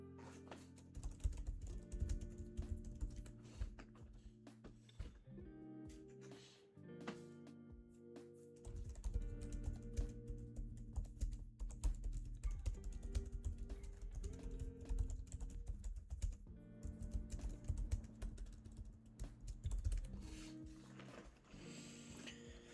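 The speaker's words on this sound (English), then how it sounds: "Typing away." Rapid typing on a computer keyboard, faint and continuous, under a dense, loud backdrop of layered music or other sound.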